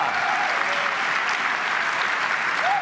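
Loud, steady applause from an Apple event crowd reacting to news of PlayStation DualShock 4 support on Apple TV, a dense unbroken wash of clapping with a faint rising cheer near the end.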